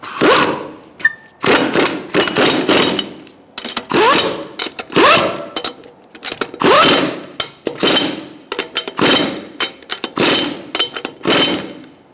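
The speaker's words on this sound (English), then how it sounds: "Using a 21mm socket, we're going to tighten up our lug nuts in a crisscross manner." Lug nuts on a 2012-2017 Hyundai Accent wheel being tightened with a 21mm socket in a crisscross pattern: loud, close bursts of a power tool's whirring rattle, repeated about a dozen times with short pauses between.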